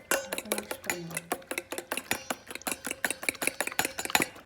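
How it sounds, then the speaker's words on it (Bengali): A utensil whisks egg batter with salt, turmeric and spices in a bowl, producing rapid, rhythmic clinking taps in a quick, uneven run, close and clear with no talking. "এবার সব কিছু একসঙ্গে ফেটিয়ে"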